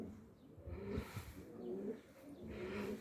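Sick dolapçı pigeon chick too weak to hold up its head, giving soft low cooing and faint breathy calls, quiet and close, in a few short bursts.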